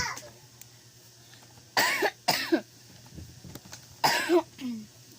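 A few harsh, raspy coughs up close, with a pair in quick succession and another burst a couple of seconds later, over quiet background hum.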